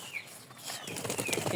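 A pigeon beats its wings in a brief, fairly soft flurry of rapid flaps lasting under two seconds, with no voices.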